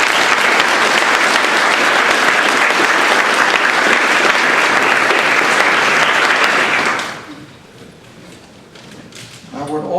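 Graduation ceremony audience at the Croft Institute breaks into a broad, steady round of applause that holds loud for about seven seconds, then fades away to a quiet hall with a few stray claps and rustles.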